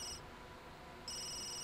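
A phone rings in the life-simulation game The Sims 3: steady high electronic ringing tones at the start, a brief quieter gap, then the ringing resumes loudly over a low game background.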